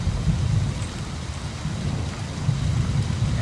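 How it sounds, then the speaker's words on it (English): Rain and thunder in the video game Season: A Letter to the Future: a steady wash of rainfall with a deep rumbling thunder underneath, continuous and moderately loud, with no voices. "And the rain is also coming right now"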